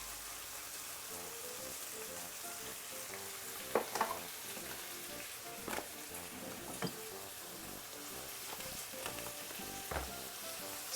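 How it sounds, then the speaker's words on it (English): Salt fish seasoned with paprika and coarse pepper fries in a pan with a constant loud sizzle and crackle. Stirring scrapes and clinks come through now and then. "I'm gonna be frying up with this for roughly about 4 to 5 minutes"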